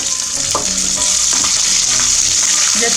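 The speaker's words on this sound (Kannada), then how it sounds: "ಗ್ಯಾಸ್ನ ಒಂದು ಮೀಡಿಯಮ್ ಫ್ಲೇಮಲ್ಲಿ ಇಟ್ಕೊಂಡು ಫ್ರೈ ಮಾಡಿ ಎಲ್ಲನೂ." Curry leaves, red chillies and green chillies sizzling in oil over a medium gas flame for coconut rice, a loud steady frying hiss with occasional stirring scrapes, close up.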